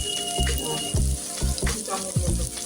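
Potatoes frying in a pan as turmeric powder and salt are added, a close steady sizzle with a few rhythmic scraping stirs.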